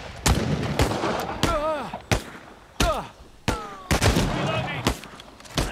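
Gunfire in the World War II game Partisans 1941 rings out as a string of sharp, loud shots at irregular intervals, each a crisp crack with a short tail. Voices speak between the shots.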